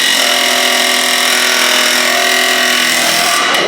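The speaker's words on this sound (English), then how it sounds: "So I cut all the way around it with the grinder" An angle grinder cuts around a seized rear brake drum on a car with rear disc and drum brakes, producing a loud, continuous high-pitched metallic whine at close range that holds steady for a few seconds and then tapers off.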